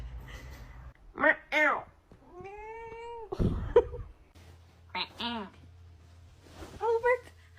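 A house cat answers with several clear meows and a drawn-out caterwaul, heard close among quiet human voices and brief murmurs, the calls spaced irregularly between pauses.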